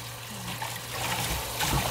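Dandelion roots are shaken and swished in a basin of water to rinse off dirt, giving a steady, close trickling and sloshing of liquid that swells toward the end.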